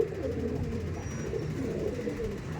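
Pigeons, a pair of male and female birds, cooing softly in a low continuous murmur, somewhat quiet and close with steady background hum and no talking.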